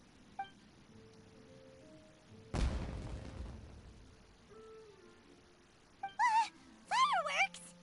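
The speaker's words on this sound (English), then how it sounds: "Was that an explosion? It sounded like fireworks." Fireworks going off in the video game Genshin Impact: one sudden loud boom that rolls off over about a second, surrounded by quieter game ambience, with chirpy voice-like sound effects near the end.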